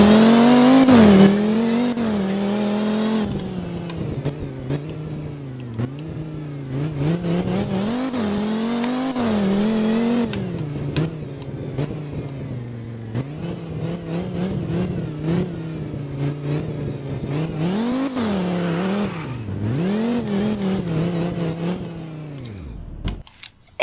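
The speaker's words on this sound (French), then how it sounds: "On va jouer avec cette voiture, on va aller prendre cette voiture." A car engine revs over and over in the video game Fix It Up, with rising and falling whines, sharp accelerations and brief drops, loud and close throughout with no talking.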